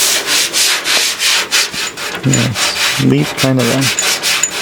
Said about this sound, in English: It's really tough to sand off.